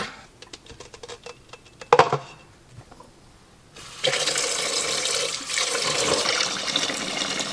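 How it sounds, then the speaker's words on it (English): Water from a kitchen tap runs over boiled eggs to cool them, starting with a few clinks and taps, then a steady loud gush of running water into the sink. "So now it's time to get these in some cold water."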